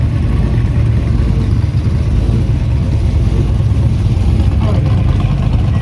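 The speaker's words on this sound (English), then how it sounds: "let's get ready for a pretty weak burnout." A muscle car engine at a burnout contest gives off a loud, steady low rumble that holds throughout, close by, with faint background noise.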